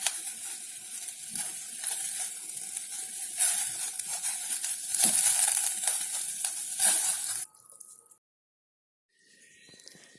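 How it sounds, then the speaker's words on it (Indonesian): Beef meatballs (bakso) going into a pot of boiling water, a close bubbling, hissing rush with soft splashes that cuts off abruptly, then a quiet gap and faint simmering. "setelah mendidih kita masukkan bola-bola baksonya"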